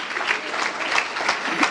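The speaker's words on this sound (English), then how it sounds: "give one big round of applause" Audience applause at an ISKCON fundraiser event, a steady wash of many hands clapping throughout, fairly loud and close with no talk over it.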